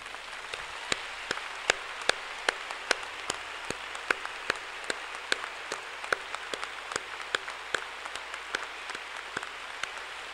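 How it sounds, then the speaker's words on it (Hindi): An audience stands and claps for fallen soldiers at a patriotic gathering addressed by a uniformed major general. The clapping is steady and rhythmic, with sharp evenly spaced claps throughout and no talking. "आप एक बार खड़े होंगे और तालियां बजाएंगे जब तक हाथ थक ना जाएं"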